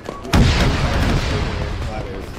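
A sharp, heavy boom of an anti-tank gun firing in Call of Duty, one close blast followed by a long rumbling tail beneath faint battle noise and muffled voices.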